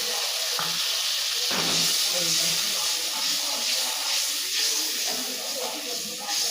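Water poured into tomato spice paste frying in oil in a pan gives a loud, steady sizzling hiss with bubbling crackle that carries on for several seconds, close up.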